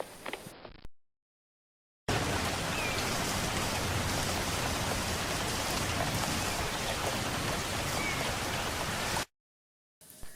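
Steady rain falls as a dense, even hiss for about seven seconds, fading in and cutting off cleanly, with no voices.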